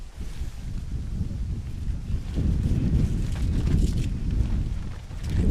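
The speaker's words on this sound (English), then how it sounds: "You can hear the wind rustling in the background." Wind buffets a microphone outdoors at a cricket match in Chicago, a rough, low rumbling gust that swells and eases and grows louder toward the end, with no clear voices.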